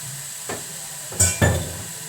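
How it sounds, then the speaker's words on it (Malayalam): Beef dropped into a hot pan, with a few soft stirring knocks followed by two sharp bursts of sizzling frying, close and moderately loud with a quiet background in between. "നമുക്ക് ഇതിനകത്തേക്ക് ഇറച്ചി ഇട്ട് കൊടുക്കാം. ബീഫാണ് കേട്ടോ."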